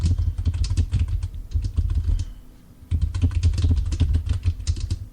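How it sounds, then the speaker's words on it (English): Rapid, steady keystrokes on a computer keyboard clatter close by in dense bursts, easing off briefly near the middle before resuming just as busily; no voices over it. "I'm typing away."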